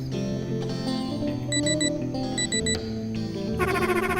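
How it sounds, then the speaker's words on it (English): Electronic beeps in short repeated bursts from the video game MAHOUTEQ, over a busy musical background, with a quick rapid chirping run near the end. "If you hear 3 beeps, it means you have left the zone of coverage"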